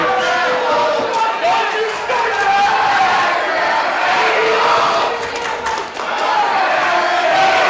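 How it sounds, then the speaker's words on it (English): Crowd at a DFW All Pro Wrestling event chanting together in the arena. The loud, sustained chant fills the room throughout, with rhythmic group shouting and hall reverberation. "the crowd is chanting that Max can't wrestle"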